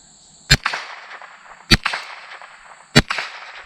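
Three sharp rifle shots from a Ruger 10/22 fired at a bowling pin target outdoors, evenly spaced about a second apart, each a loud crack followed by a short echoing tail.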